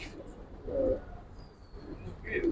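Pigeons coo softly in a loft, a few low murmuring calls rising and fading over a quiet room, with faint chirps in between.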